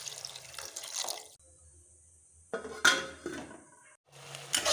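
Water poured into a pan of spiced vegetables for a pointed gourd and prawn curry, splashing and trickling in bursts with clinks of pots and utensils between short pauses.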